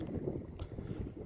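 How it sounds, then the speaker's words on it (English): Wind buffets a microphone outdoors at Fort Pulaski, a coastal fort in Savannah, Georgia, producing a steady low rumble that fills the whole moment without a break. "Sorry it's a little windy."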